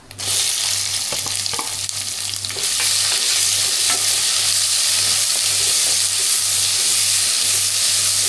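Chopped onion hits a hot pan with cumin seeds for urad dal kootu, giving a loud, continuous close-up sizzle and hiss, with repeated stirring scrapes through the frying.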